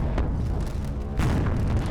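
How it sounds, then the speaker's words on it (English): Nuclear weapons detonate in the space combat game Space Engineers, a sustained loud rumbling roar of big explosions with a fresh heavy blast surging partway through. "They're the nukes, right? Big explosions?"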